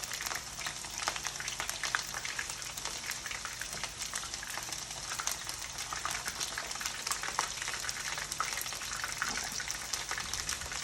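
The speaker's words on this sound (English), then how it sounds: "I'm only gonna fry it for a couple minutes" Small pieces of sesame chicken fry in very hot oil with a steady, dense crackling hiss that stays even and close throughout, with no voices.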